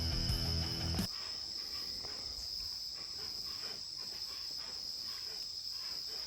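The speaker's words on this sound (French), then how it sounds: "Cette magnifique musique est produite par les cigales." Cicadas in a Peruvian jungle setting sing a steady, shrill, continuous drone, loud and close, opening with a brief louder burst before settling into an unbroken buzz.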